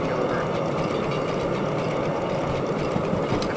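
A steam locomotive, the S282, hauls a heavy coal train in the Derail Valley simulator game, a steady dense rumble and rolling roar running unbroken throughout.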